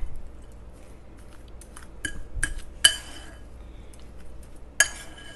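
Metal spoon clinking against a bowl while potato kabab mixture is stirred, a few sharp scattered clinks over soft mixing noise, close and fairly quiet.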